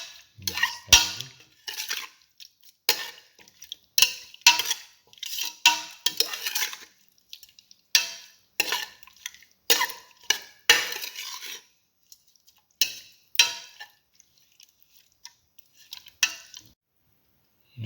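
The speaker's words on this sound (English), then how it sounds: "Mix that in." Repeated scraping and clinking of a utensil stirring turmeric into a beef mixture in a pot, in irregular bursts with short pauses, close and fairly loud.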